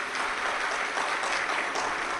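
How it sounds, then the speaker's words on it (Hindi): Loud, sustained applause from a large audience at a Shiv Mahapuran katha gathering, a dense steady roar of clapping throughout with no break. "एक बार जोरदार ताली बजाकर साथ ही पाए"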